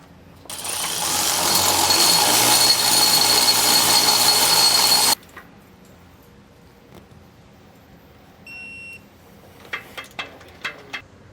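A power tool snugs up carriage bolts while SumoSprings helper springs are fitted on a 2016 Winnebago, with one loud, continuous mechanical rattle for about five seconds that stops abruptly, followed by a few faint metallic clicks and taps.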